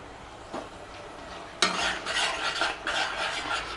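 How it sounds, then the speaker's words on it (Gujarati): Green chickpea curry being stirred in a pan, close and fairly loud scraping strokes of a spoon against metal in repeated bursts with a light sizzle underneath. "વચ્ચે વચ્ચે બરાબર આપણે હલાવતા જઈશું."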